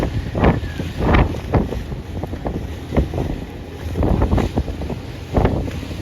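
A Sea Tractor 9 boat passes on San Diego Bay, its hull and engine noise mixed with strong wind buffeting and splashing water in uneven gusts close to the microphone.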